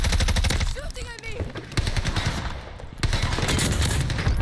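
Gunfire in a shooter video game: dense, loud bursts of rapid automatic shots, with a voice speaking briefly between them.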